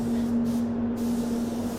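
A SATAjet NR95 spray gun laying down base coat paint gives a steady, loud hiss of atomised air. It holds a constant tone throughout, close by, with no voices.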